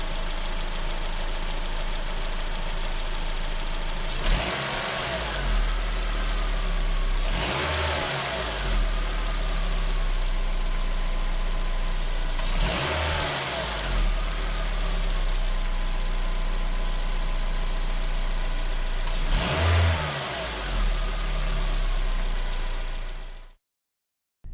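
A Honda car engine idles steadily and is revved four times in evenly spaced bursts, each rise in pitch falling back to idle, heard close up with no talking, in a check of the MAP sensor.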